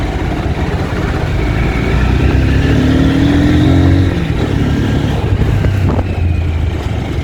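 A Honda Hornet 2.0 BS6 motorcycle with a 184 cc engine pulls hard while riding in third gear, its engine note climbing loudly, dipping, then rising again over a steady road roar.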